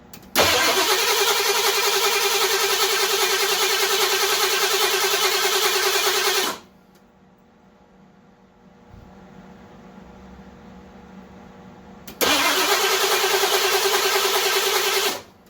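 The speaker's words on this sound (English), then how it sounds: "I'm going to go ahead and start cranking now." The engine of a 1982 Ford LTD with a rebuilt carburetor cranks loudly and steadily for about six seconds, pauses for several seconds, then cranks again for about three more without catching. The sound is close, with no talking.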